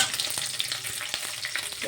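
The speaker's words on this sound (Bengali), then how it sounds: "এবারে এই পোলতা শাকটা দিয়ে দেবো।" Pointed gourd leaves hitting hot oil over onions fried until red, giving a steady close sizzle with a few soft stirring knocks throughout, no voices.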